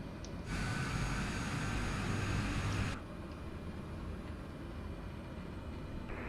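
A Cessna C208 turboprop in Flight Simulator 2020 runs at high idle as a broad, steady engine roar that swells louder for a couple of seconds, then drops back to a lower continuous drone.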